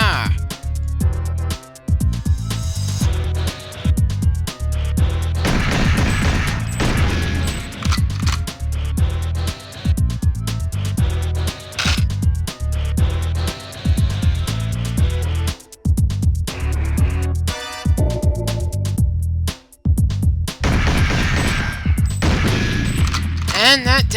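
Dense gunfire and booming explosions from GoldenEye 007 on the Nintendo 64, as turrets are shot and destroyed in a late mission; loud continuous volleys with game music and effects, a few brief gaps.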